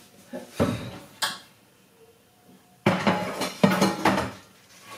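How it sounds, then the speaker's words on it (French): Plates unloaded from a dishwasher clatter in a few separate bursts of clinking and knocking crockery, with quiet pauses between handfuls, close by and with no voices. "Je vide les assiettes."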